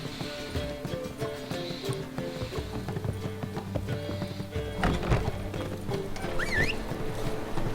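Roach, the horse in the Witcher 3 video game, clip-clops with steady hooves on the ground, then gives a short whinny near the end, with faint game ambience behind.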